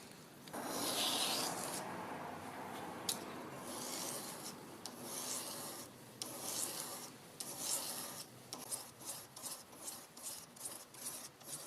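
A small micro carving chisel blade being filed and rubbed with sandpaper, a faint close rasping that starts as a continuous scrub and turns into quick repeated back-and-forth strokes.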